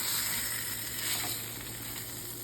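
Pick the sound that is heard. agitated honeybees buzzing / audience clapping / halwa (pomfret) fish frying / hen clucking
halwa (pomfret) fish frying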